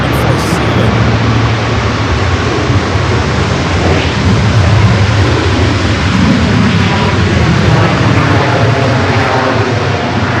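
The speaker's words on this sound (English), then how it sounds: "Arrival is the Delta 767-400 ER, coming up from JFK at flight" A Delta Boeing 767-400ER arrives at Los Angeles LAX from JFK, a steady, loud jet rumble and whine filling the scene throughout with no clear rise or fade, and no talk over it.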